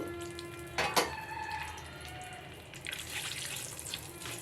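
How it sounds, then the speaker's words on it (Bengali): Roasted semolina tipped into hot oil for suji halwa, with a couple of sharp knocks of the pan early on, then a soft steady sizzle and light crackle up close, no talking. "সেই সুজিগুলো আমরা তেলের মধ্যে দিয়ে দিচ্ছি"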